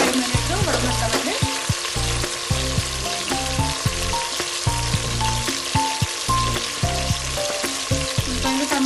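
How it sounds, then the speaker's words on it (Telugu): Onions and tomatoes fry in a pan for veg biryani, giving a steady close sizzle with repeated stirring scrapes in a regular rhythm, no talk over it. "ఈ టమాటాలు ఉల్లిపాయలు ఫ్రై అవ్వాలంటే కొద్దిగా సాల్ట్ వేసుకుని మనం ఒక 5 మినిట్స్ ఉడకబెట్టాలండి."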